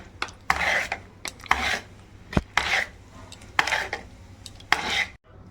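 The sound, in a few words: mixing purnam filling into khichuri in a pot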